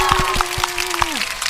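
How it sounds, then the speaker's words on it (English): Hand clapping, a handful of distinct claps spaced unevenly under a steady electronic tone that bends downward near the end, close and fairly loud. "I had to give you a round of applause"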